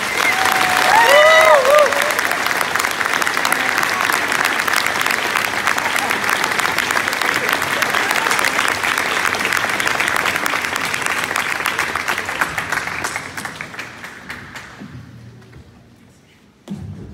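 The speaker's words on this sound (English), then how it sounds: "So I would like to give a hand of applause to Shelby Irwin, Liza Q, and Zachary Q" Audience applause for high school choir students at a school concert, a loud, dense sustained clapping that carries on for about fifteen seconds before thinning and fading out.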